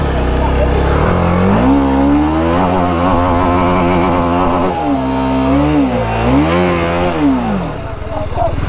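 An off-road motorcycle engine revs loudly and close while it climbs a slope, its pitch rising and falling in repeated throttle surges before it eases off near the end.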